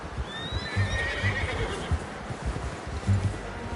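Horse in the video game Red Dead Redemption 2 whinnying shrilly while hooves clip-clop steadily underneath, close and moderately loud with a faint voice in the background.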